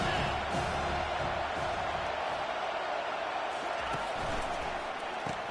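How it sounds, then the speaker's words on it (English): A stadium crowd roars through a Florida versus Tennessee college football game, a loud, sustained wash of cheering and yelling with a few sharper shouts rising out of it. "this crowd is turning it up a notch"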